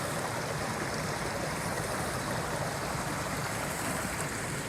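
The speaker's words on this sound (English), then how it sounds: "let's look and see the water that's entering the pipe going under the house" A strong flow of water pouring into a drainage pipe that runs under a house, once an open ditch: a steady, dense rushing roar, close and unbroken throughout with no voices.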